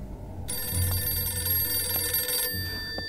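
A telephone rings in a horror video game, a loud, steady bright bell tone sounding for about two seconds, then cutting off before a brief softer repeat.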